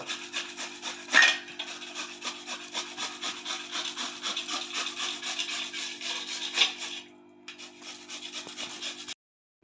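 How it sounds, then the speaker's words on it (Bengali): Beetroot being rubbed against a grater in a kitchen, a continuous rasping scrape with steady back-and-forth strokes, close and fairly loud, pausing briefly before ending. "এবার বিটটাকে এইভাবে ঘষে নেব।"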